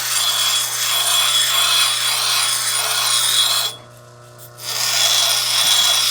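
A steady, loud abrasive grinding as the edges of a dahecasite stone are shaped. It runs continuously, pauses briefly partway through, then resumes, close up with no speech.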